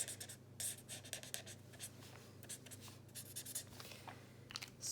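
An alcohol marker scratches over paper in quiet, irregular short strokes while shading fabric folds in a colouring of a Roman Senate scene, close and faint.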